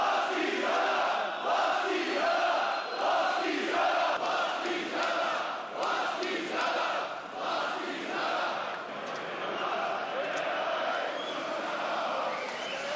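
A large crowd of neo-fascist marchers moving through Bratislava, heading from the main station toward the square: sustained rhythmic group chanting and shouting from many voices, steady and somewhat distant, with no single voice standing out.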